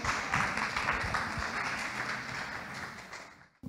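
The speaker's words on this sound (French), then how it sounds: "Sous vos applaudissements." An audience at a French sports panel discussion on women's athletics claps in steady, moderate applause that gradually thins out and stops near the end.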